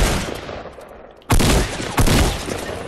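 In Fortnite, loud gunshots crack out close by in two sharp, heavy bursts after a quieter stretch of distant game ambience, with no talking over them.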